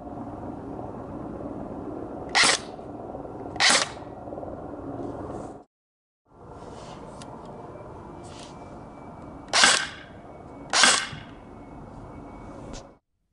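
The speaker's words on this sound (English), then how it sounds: "I'll show you a test really quick here of the sound amplifier without it and then with it right now" Airsoft gun shots from a Socom Gear Daniel Defense Omega rifle, fired with and without a sound amplifier on the muzzle: two sharp, close cracks, a brief gap, then three more over steady background hiss.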